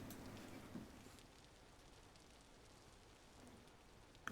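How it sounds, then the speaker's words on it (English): Soft, steady rain patters in a continuous hiss, faint and even, with a couple of brief clicks and no voices. "I just realized I left you with rain sounds"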